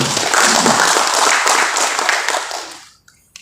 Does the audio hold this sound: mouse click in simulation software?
no